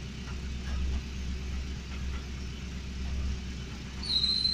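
A car engine idling while warming up on a cold morning, smoke coming from the exhaust; a steady low rumbling idle, fairly close, with a faint high whine near the end.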